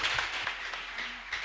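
A church congregation applauding, a brief wash of dense clapping at steady strength with no talk over it.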